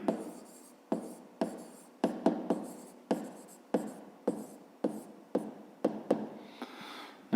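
Pen or chalk writing out a fifth-grade math solution, a series of quick scratchy strokes in short bursts with small taps between words, close up and without talk.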